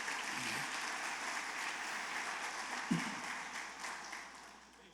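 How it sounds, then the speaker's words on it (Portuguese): Applause from a church congregation rolls on as a steady, distant wash of clapping over a low hum, quiet overall with one brief thump midway, fading slightly at the end. "Dá um aplauso bem forte ao Messias."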